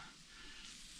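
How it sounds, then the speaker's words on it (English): Steady, close sizzling of toast frying in a pan, a continuous crackling hiss with no voices. "I can hear it sizzling."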